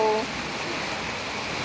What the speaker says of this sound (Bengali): কারণ আওয়াজ হচ্ছে বৃষ্টির।